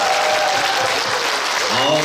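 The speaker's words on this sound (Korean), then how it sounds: "난타팀에게 다시 한번 뜨거운 박수 부탁드리겠습니다." Warm applause rises from a festival audience after a seniors' nanta drum performance, loud and continuous clapping with a voice and faint tonal sounds mixed in near the end.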